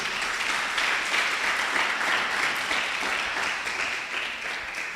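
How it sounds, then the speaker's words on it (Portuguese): Church audience applauding steadily throughout, a dense, even wash of clapping from many hands that holds at a constant level, with no voices standing out. "Vamos aplaudir a Ele por isso."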